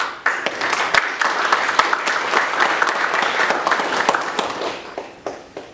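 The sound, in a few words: audience round of applause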